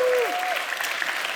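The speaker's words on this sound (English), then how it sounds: "Big round of applause for the staff at the Bloomsbury." Theatre audience applause at an engineering festival event at the Bloomsbury, a steady wash of many hands clapping, with a brief voice gliding through at the start.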